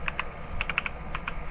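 Keys tapped on a computer keyboard in a cluster of quick clicks, a pause, then a few more strokes, fairly close over a low steady room hum.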